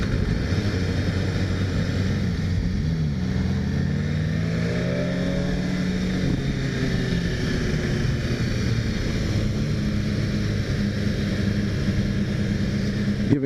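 A 2017 BMW S1000RR sport bike's engine pulls hard and loud, its rising whine climbing in pitch over a steady wind-blasted roar that carries on throughout.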